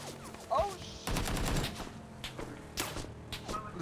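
Rapid bursts of gunfire in a multiplayer video game crackle through the scene, with a sharp burst near the start and further volleys trailing off, while players talk excitedly over the shooting.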